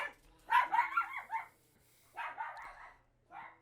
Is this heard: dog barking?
yes